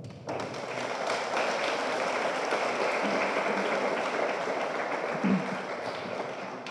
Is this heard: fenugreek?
no